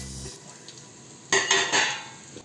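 Whole spices (dried lemon, cinnamon, cloves, cardamom, coriander seed and pepper) tempered in hot oil for Arabian chicken mandhi, with a faint sizzle and a few clinks and scrapes of a spoon stirring the pan, no talk.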